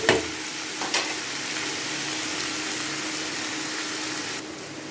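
Onions sizzling in a pan for dal tadka, a steady loud frying hiss with a couple of stirring knocks near the start, continuous and close with no talk.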